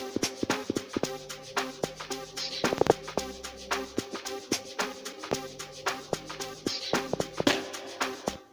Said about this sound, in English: So my first log drum is the Zen log 1,